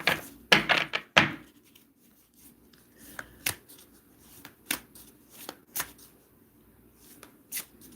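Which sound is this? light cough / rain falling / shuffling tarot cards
shuffling tarot cards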